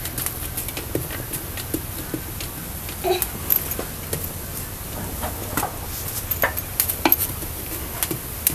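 Wheat-flour khakhra roasting on a pan while being pressed down repeatedly, a steady faint sizzle with irregular soft presses and taps throughout, no talk.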